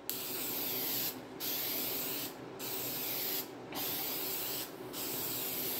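Four short, close bursts of aerosol spray paint hiss onto the valley pan of a 1968 Pontiac GTO 400 engine during a third coat, with brief pauses between them.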